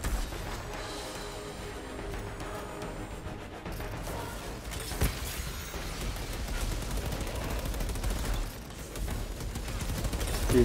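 Dense, continuous gunfire from the video game Outriders, in its Worldslayer expansion, with overlapping shots and bursts forming a steady barrage alongside crashes and impacts, loud throughout with no speech.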